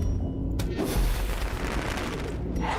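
A blight grenade going off in the dark fantasy game Darkest Dungeon, a heavy booming blast with a loud low rumble that fills the whole moment, alone without any voices.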